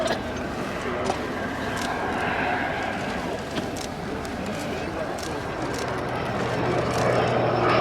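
A French Navy Breguet Alizé on approach at the RN Yeovilton air day, undercarriage and arrestor hook down, gives a steady propeller-engine drone that swells slightly toward the end, with a voice talking over it.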